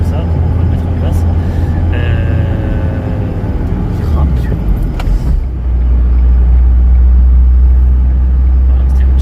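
A car cruising along a road at around 90 km/h, steady low rumble of engine and road noise filling the whole stretch, with a person talking over it inside the cabin.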